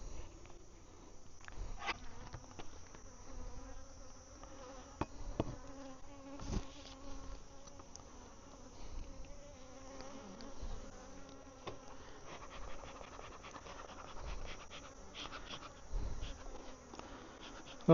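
A swarm of honey bees in a bee yard hums steadily, with individual bees zipping close by and occasional light knocks against the droning background.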